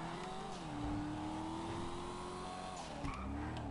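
A car engine in GTA hums steadily while tires screech in a drawn-out skid, the pitch sliding as the vehicle brakes, with a brief bump near the end.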